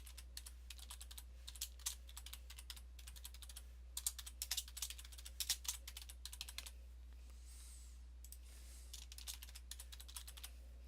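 Quiet, steady typing on a computer keyboard, bursts of soft close key clicks with brief pauses, over a constant low electrical hum.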